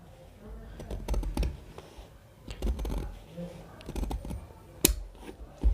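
Scissors cutting shirt collar fabric in a tailoring session, with repeated close, crisp snipping clicks in irregular bursts and a low voice murmuring between cuts.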